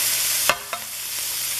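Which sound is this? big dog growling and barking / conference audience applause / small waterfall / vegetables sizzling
vegetables sizzling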